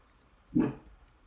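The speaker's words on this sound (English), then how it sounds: "Sorry, my dog is crazy." One sharp dog bark indoors, fairly close and loud, rising out of quiet room tone and fading quickly.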